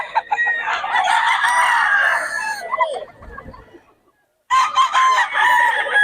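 A rooster at a poultry market in Bocaue crows loudly and close up, with a long, full crow, a brief pause, then another crow starting.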